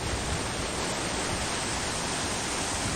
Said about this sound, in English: A couple waterfalls over there. 360-degree waterfalls.